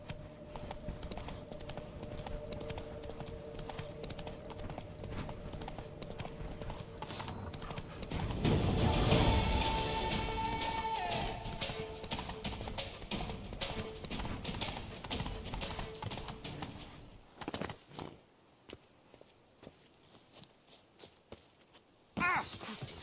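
Hooves of the horse Roach in The Witcher 3 video game clip-clopping at a steady walking pace, with in-game sounds swelling midway and a player talking over it before things quiet down.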